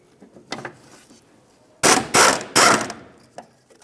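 A ratchet wrench loosening a 10mm rear shock bolt on a 2012-2020 Ford Focus, three loud close bursts of rapid clicking in quick succession, with a few softer clicks before and after.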